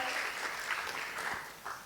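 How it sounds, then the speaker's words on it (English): Faint, brief applause from an audience after a guest lecture on HIV and co-infection, thanking two doctor speakers, soft steady clapping heard from a distance. "Please big applause for the Dr. Yan and Dr. Sutrisno"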